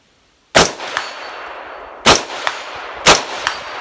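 A rifle fires Barnaul ammunition from SG Ammo, producing three sharp, loud, close shots spaced about a second or more apart, each followed by a ringing metallic decay, with no talking.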